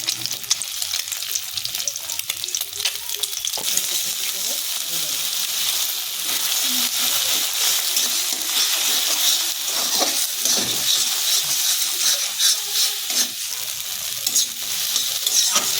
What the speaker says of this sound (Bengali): এখানে দুটো ডিম নিয়ে নিয়েছি।